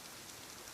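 Steady, even rainfall with a soft, continuous hiss, quiet and unbroken throughout.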